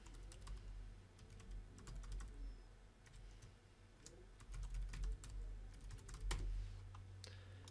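Typing on a computer keyboard while entering an email address, a steady run of close, crisp key clicks with irregular rhythm over a low background hum, no voices.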